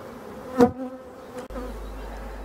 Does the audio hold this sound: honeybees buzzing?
yes